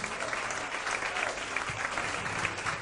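An audience at an Atlanta magic night show applauds for Jessica, a volunteer from the crowd, with steady dense clapping throughout, moderately loud and with no other sound over it.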